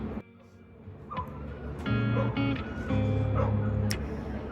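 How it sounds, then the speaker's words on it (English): Puppies behind a person at a Breckenridge, Colorado ski resort give out short yips and drawn-out whining whimpers, moderately close, over a steady background murmur. "I can hear the puppies behind me."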